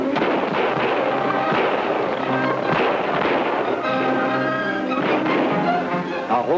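Rapid gunfire in a Western-style shootout from a 1944 adventure serial, a dense run of cracking shots and booms that fills the whole stretch with no talk.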